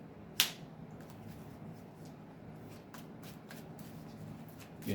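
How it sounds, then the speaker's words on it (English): A Yu-Gi-Oh card deck is shuffled by hand close up, a soft riffling, flicking patter of cards sliding against each other after a sharp snap at the start, quiet and steady with no talk. "Get that good shuffle."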